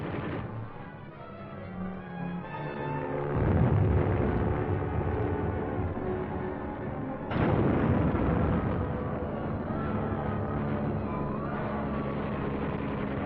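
Aircraft bombing and strafing enemy positions: a muffled roar of engines builds into a heavy explosion, then a second, louder blast cuts in, with rumbling debris and fire noise lingering after, on an old, narrow-band recording.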